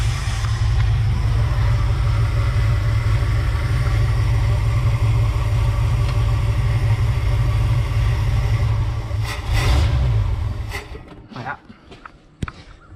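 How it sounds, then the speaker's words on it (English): A 1969 Ford F-250's heavy engine, after sitting 20 years, idles steadily too slow with a deep, even rumble, then rises briefly before cutting out, followed by a few sharp metallic taps. "I think it's just idling too slow."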